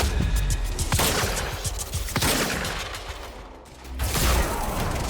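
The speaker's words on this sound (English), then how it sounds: "let's try out this shotgun" Shotgun blasts in the video game Quantum Break ring out loud and close, several heavy booming shots in quick succession with a brief lull before another burst.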